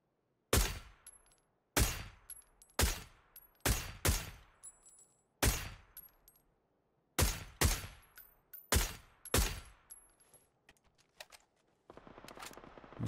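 Rapid bursts of automatic SMG gunfire in the online battle royale game PUBG on console, about a dozen sharp loud shots with ringing tails at uneven intervals, followed by softer rustling movement noise.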